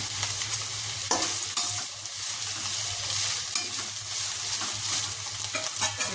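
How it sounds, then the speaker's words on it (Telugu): Capsicum and carrot frying in a pan, a continuous close sizzle with light stirring scrapes and occasional taps of a spoon throughout, no talking. "క్యాప్సికమ్ క్యారెట్ వేసుకొని ఫ్రై చేసుకుందాం"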